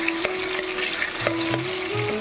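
Tomatoes dropped into hot oil in a kadai sizzle and spit steadily, with a few sharp pops and scraping stirs close by.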